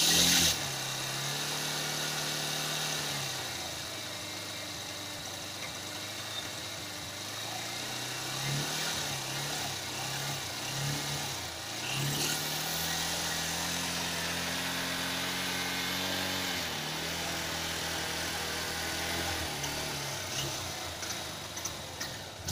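Honda Hornet 160 motorcycle engine idling as the last petrol in the carburetor runs out, a steady mid-pitched putter that wavers and dips in speed several times, close and alone.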